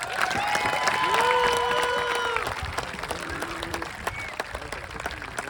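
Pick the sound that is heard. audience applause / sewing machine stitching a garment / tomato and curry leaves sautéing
audience applause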